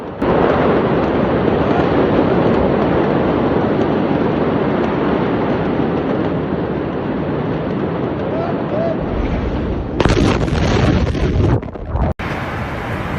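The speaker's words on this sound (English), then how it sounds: "Explosions can still be heard from within the flames, adding to the danger." A continuous, loud roar of a large raging fire with dense rumbling and crackling, broken by a sudden sharper explosion from within the flames near the end.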